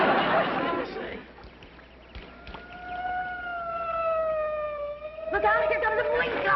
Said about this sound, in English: Look out, here comes a police car!